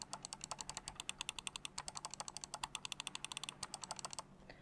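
Rapid, loud clicking of a Razer Basilisk X Hyperspeed gaming mouse in a steady rhythm, dozens of sharp plastic clicks in quick succession, close up, with no talking.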